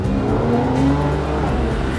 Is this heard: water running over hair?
no